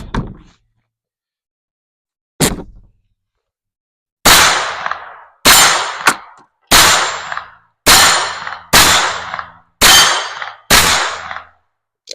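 A Beretta 950 Jetfire .25 ACP pocket pistol fires about ten sharp, loud shots, one isolated, then a rapid irregular string with short ringing decays between each, no talk.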